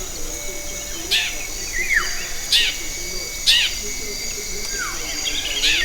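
A crossbill in the Bidoup forest canopy gives short, sharp chirping calls, about four spaced bursts with some descending notes, heard against a steady background of insect and cricket buzzing.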